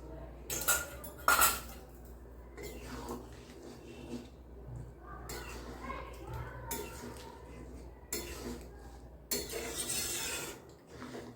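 Fried eggs being added to a spicy potato curry in a pan, with several clanks and scrapes of a spoon against the metal pan in bursts, over a low background hum.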